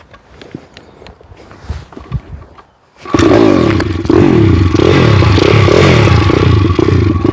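A few quiet clatters and scrapes, then a motorcycle is kick-started and its engine suddenly fires up and keeps running loud and rough until the end.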